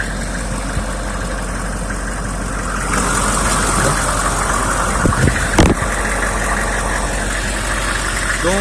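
A 6.5 litre turbo diesel V8 in a Hummer H1 wagon idles with a steady low rumble, recorded up close, while a few brief knocks and handling noises sound near the microphone.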